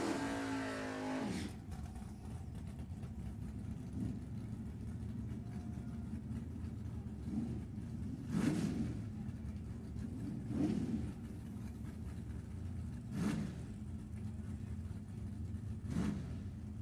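Drag race cars accelerating side by side in a heads-up semifinal race at the Gambler event, a loud, steady engine roar that builds after a brief lull and is punctuated by periodic bursts.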